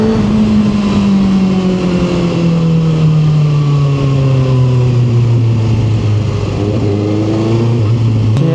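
Kawasaki ZX6R 40th Anniversary Limited Edition motorcycle accelerating, its loud close engine tone climbing steadily in pitch as it pulls away through the gears, with no talk.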